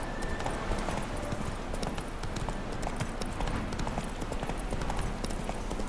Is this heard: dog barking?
no